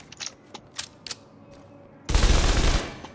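Gunfire in The Division video game: a few sharp isolated shots early on, then a loud sustained burst of automatic fire about a second long, with no talk.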